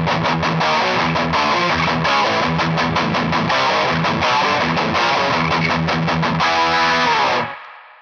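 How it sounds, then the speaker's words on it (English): Heavily distorted electric guitar chugs through chunky riffs of two power chords played with one hand, loud and steady, then cuts off sharply near the end. "We are going to be playing 2 power chords with 1 hand."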